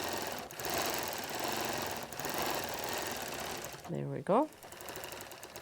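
A sewing machine quilting outline designs around small flowers on the border of a soft baby quilt runs in a steady continuous whir, briefly paused near the end while a person speaks.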